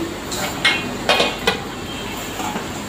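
Bot (tripe) being stirred and mixed in a cooking pot: a few sharp metallic clinks and scrapes of a spoon against the pot, spaced irregularly, close and fairly loud over a low background hum.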